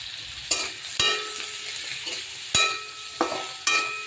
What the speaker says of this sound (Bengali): তাই অল্প তেল দিয়ে আগে কচুটা ভেজে নিচ্ছি, লবণ হলুদ দিয়ে একটু।